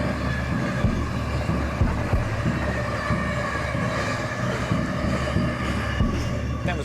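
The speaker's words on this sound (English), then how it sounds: "That train that just went through" A freight train rolls past on an Australian railway line, a loud, steady rumble of wheels and wagons with rhythmic clacks close by, continuous throughout.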